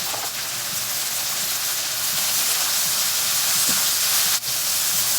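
Dry fish with crushed red chili, turmeric, ginger and garlic sautés in hot oil, giving a loud, steady, close hiss that holds unbroken throughout.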